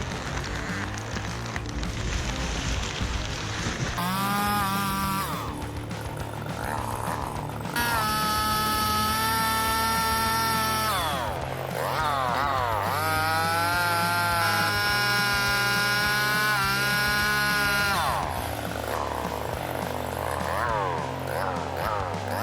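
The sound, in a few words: chainsaw running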